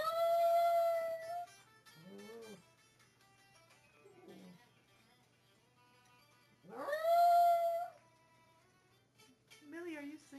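A puppy lets out two long, high howls separated by a pause, with softer whimpering yips in between and at the end.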